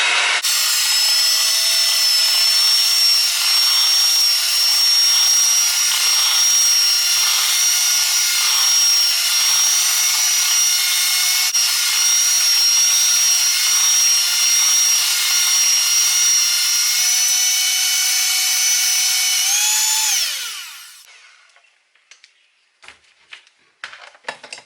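Sorrel and beetroot fruit cake batter mixed by an electric mixer, a loud steady motor whine running continuously for about twenty seconds before winding down and stopping, followed by a few faint clicks and taps.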